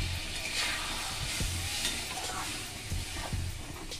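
Spice paste with a little water frying and being stirred in a pan for a fish roe fritter curry, a steady close sizzle with occasional scraping stirs, continuous and fairly loud.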